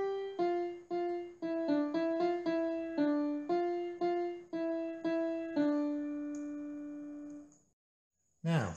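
A synthesized piano plays a short melody of clear, evenly spaced notes, the last one held and fading before a brief sound at the end.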